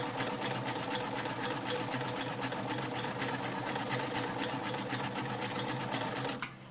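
A vintage White model 533 sewing machine runs a zigzag stitch at a slow, steady pace, its smooth whirring hum and fast needle ticking continuous and close until it stops at the end.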